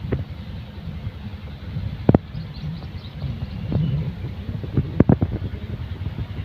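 Outdoor wind over open farmland buffets the microphone in a steady low rumble for the whole stretch, with a few brief louder gusts and no voices.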